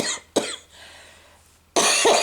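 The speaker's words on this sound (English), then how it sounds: "I was going to start coughing." A few sharp, harsh coughs from one person close to the microphone, spaced apart with a quiet gap between them.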